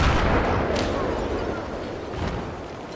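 Explosions and artillery fire rumble dense and loud through Battlefield 3 combat, a continuous booming wash with a couple of sharper bursts and no talk over it.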